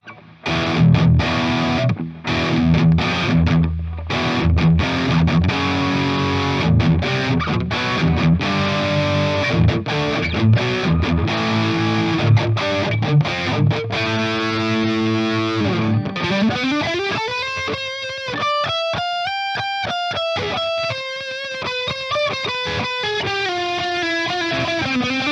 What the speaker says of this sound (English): I gain metal tones, middle pickup.